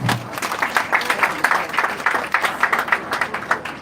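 Audience clapping to recognise TFM fellows at a school gathering attended by parents and press, a steady patter of many hands lasting a few seconds with some crowd murmur mixed in.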